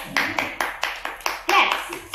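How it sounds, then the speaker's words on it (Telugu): A group of young preschool children clapping in a classroom lesson, about eight sharp, evenly spaced claps in a steady rhythm, close and clear, with a brief burst of voices near the end. "Very good. క్లాప్స్"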